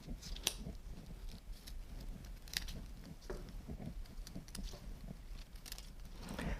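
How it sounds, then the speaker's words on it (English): Scissors snip flower blooms off their stems in a string of quiet, close, irregular clicks and crisp cuts. "I cut each of the blooms right off the stem."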